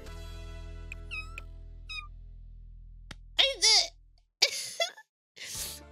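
A black cat in The Sims 4 gives several high, close meows in quick bursts after a fading musical tone, with game sounds and some playful vocal noises mixed in.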